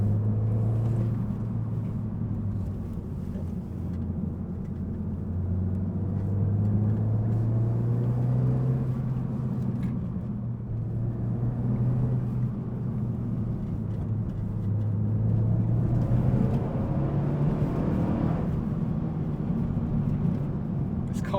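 A Renault Megane RS 265 climbs a twisty mountain pass, its engine drone rising and falling through the corners as it accelerates and eases off, heard from inside the car with a voice talking over it.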